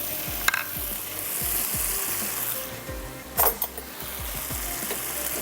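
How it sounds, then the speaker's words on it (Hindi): Yogurt poured into chicken curry sizzling in hot oil in a dhaba-style pan: steady, close frying hiss with a few stirring scrapes and clinks and no talking. "आधा कप हम इसमें ऐड कर रहे हैं दही, इसमें शामिल कर देते हैं दही।"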